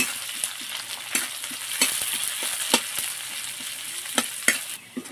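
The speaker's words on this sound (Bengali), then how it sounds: "পেঁয়াজটা একটু ভালো করে ভেজে নেব।" Close, crackling sizzle of onion and garlic frying in oil, with intermittent sharp clinks and scrapes of a utensil stirring the pan.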